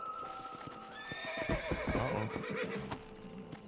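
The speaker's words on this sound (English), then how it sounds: "This is my horse." A horse whinnies loudly and its hooves clip-clop on the ground in the video game Red Dead Redemption, the neigh rising over a busy ambient background, with a brief spoken exclamation.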